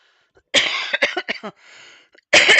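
Several harsh, close coughs burst out in a rough cluster, then after a short pause another loud cough breaks out.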